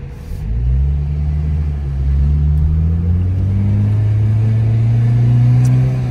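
A Ford Fiesta with a CTX CVT gearbox struggles to accelerate, its engine holding a steady low drone that swells slightly without gaining pace, heard up close and continuous with no talk over it.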